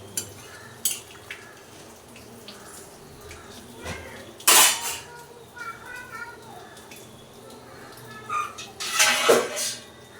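Potato and pointed gourd curry stirred with added water in a cooking pan: soft scraping and a faint simmer, broken by a few sharp clinks of the spoon against the metal.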